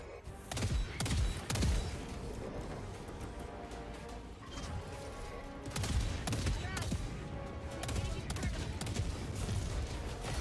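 Cannon fire and explosions in Helldivers 2 form a dense, continuous battle din with repeated heavy booms and rapid gunfire bursts, loud throughout, with faint voices underneath.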